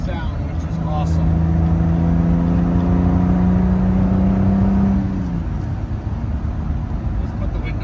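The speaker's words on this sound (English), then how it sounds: "And that DB 6-cylinder sound, which is awesome." A 1965 Aston Martin DB5's six-cylinder engine drones steadily while driving, its rising tone holding for several seconds before easing off, with someone talking over the engine.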